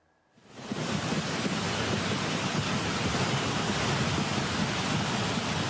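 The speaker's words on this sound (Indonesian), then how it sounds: "Arus air yang membesar terlihat menghanyutkan potongan kayu dan batu-batu berukuran besar." A flash flood's swollen current carries wood pieces and large stones, heard as a loud, steady broadband roar of rushing water that rises within the first second and holds without break.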